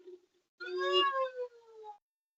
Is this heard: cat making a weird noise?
yes